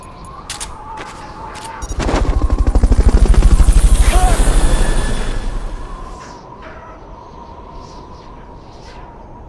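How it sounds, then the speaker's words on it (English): Fulton recovery helicopter in Metal Gear Solid Peace Walker, its rotor swelling into a loud rapid chopping pulse that peaks midway and fades, with gunfire-like bursts and brief game voices around it. "Fulton recovery helicopter is complete."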